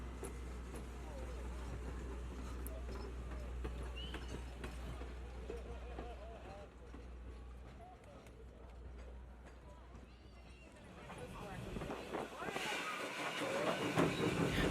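A steam excursion train of heavyweight passenger cars, including a B&O lounge car and the business car Reading, rolls past near a crossing by the Red Caboose Motel, with steady low rumble and clatter that swells louder toward the end; faint voices mix in.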